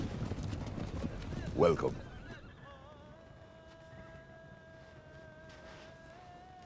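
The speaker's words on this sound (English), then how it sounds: "We bring horses for you." Horses brought in as a gift, hooves clip-clopping under a short spoken greeting, with a brief whinny, then fading to a quiet background.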